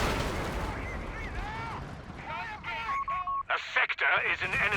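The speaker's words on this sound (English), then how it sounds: "Yeah, it's a strong barrage again." An artillery barrage in the Company of Heroes 3 strategy game booms and rumbles in a dense wash of explosions, with radio chatter and tones layered on top and a voice talking over it.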